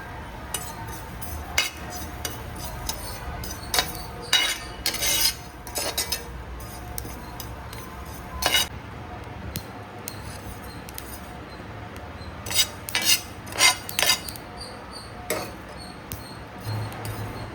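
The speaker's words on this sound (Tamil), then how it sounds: "மல்லி, கடலைப்பருப்பு, உளுந்துலாம் வறுத்துக்கிறேன்" Coriander seeds, chana dal and urad dal dry-roasting in a pan, stirred with a utensil that gives intermittent scraping, rattling clinks over a steady low background.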